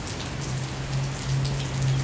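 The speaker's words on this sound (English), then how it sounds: "sometimes it's just relaxing to sit in here and listen to the rain" Steady rain falls outside while someone sits indoors, a dense, even patter on surfaces with a faint low hum underneath and no talking.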